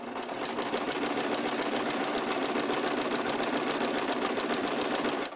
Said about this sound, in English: Lower your needle. Lower your presser foot. Hope you saw that. And begin stitching.